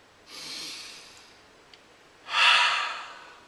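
Two breaths with no talk: a soft inhale, a short pause, then a louder, deeper breath drawn in sharply and let out.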